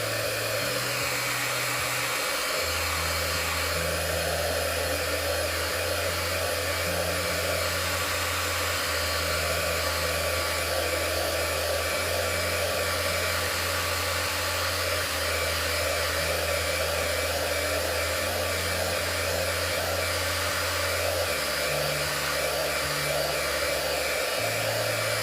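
A hair dryer runs steadily for the whole stretch to dry a second coat of paint, its loud even whoosh shifting in pitch now and then as the airflow or angle changes, with no voices over it.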